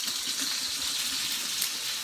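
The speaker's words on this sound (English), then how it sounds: "fill it with some water. Cold water, always cold water" Cold tap water runs steadily into a pot for duck stock, a continuous close hiss and gush with no break.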